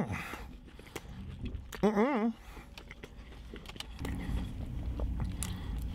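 A crunchy bite into a Taco Bell Naked Chicken Chalupa with its fried chicken shell, followed by close chewing, with a short burst of voiced sound partway through.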